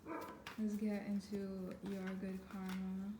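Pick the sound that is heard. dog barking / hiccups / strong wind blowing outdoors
dog barking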